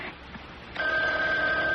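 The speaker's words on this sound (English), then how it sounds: "Oh, it's the phone ringing" A telephone rings loudly and steadily, its bright electronic trill starting abruptly partway in and holding without a break over a quiet room.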